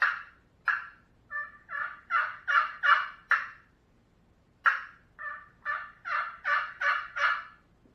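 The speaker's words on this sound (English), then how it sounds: "Three, 4 yelps, that's all you need." A handheld turkey call produces two bursts of sharp yelps and cuts, six or seven notes each in a quickening, rising rhythm, loud and close with a pause between the runs and no talking.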